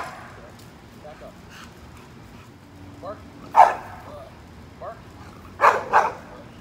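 A dog barks on command, giving a few short, sharp barks spaced apart over a quiet indoor background, with faint softer yips between them.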